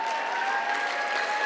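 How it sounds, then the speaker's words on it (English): Dense, steady applause from a large audience at the Goddard Memorial award dinner, continuous, loud and close throughout the brief moment. "Yeah, that deserved a clap, okay."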